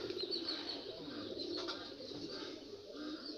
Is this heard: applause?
no